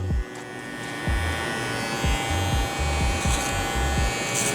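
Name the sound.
Babyliss Rose Gold FX One clipper cutting hair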